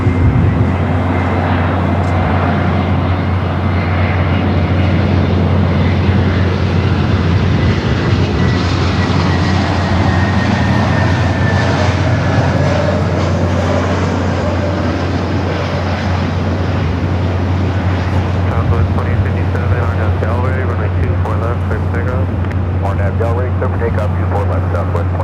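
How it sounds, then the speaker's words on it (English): A JetBlue Airbus A321neo arriving at LAX from JFK, heard as a loud, steady jet roar with a low engine hum that holds for the whole stretch, with voices faintly beneath. "It's the flight coming from JFK, A321 Neo with JetBlue."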